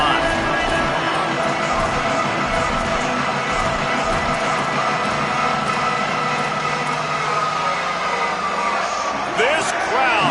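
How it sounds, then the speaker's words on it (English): A football stadium crowd roars in a dense, continuous wall of noise that stays loud and steady throughout, with an announcer's voice partly under it. "This crowd, full throat, spreading the eardrums"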